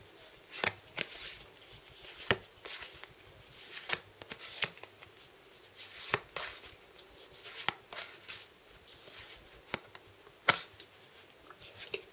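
LEGO Legends of Chima trading cards from set 70151 being handled close up, with a series of quiet, sharp flicks and shuffling rustles at irregular intervals and no talk.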